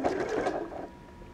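A sewing machine starts a seam on a fabric overnight bag, a short close whirring burst of stitching that fades to quiet after under a second.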